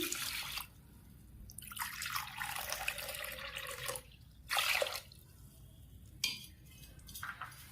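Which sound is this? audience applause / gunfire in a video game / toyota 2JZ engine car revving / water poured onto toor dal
water poured onto toor dal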